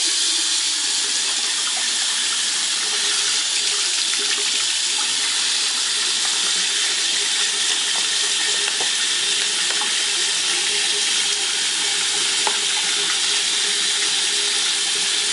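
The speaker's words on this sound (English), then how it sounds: "So I'm going to turn on my water." A bathroom tap runs hard into a sink, a loud, steady rush of water that continues unbroken throughout while makeup brushes are rinsed.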